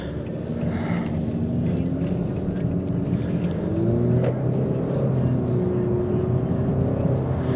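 Cabin view of a 2022 Honda Accord Sport with the 1.5L engine and CVT accelerating, a steady loud engine drone with gently rising tones that hold smooth and even, no voices.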